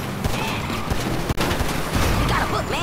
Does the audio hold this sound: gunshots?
yes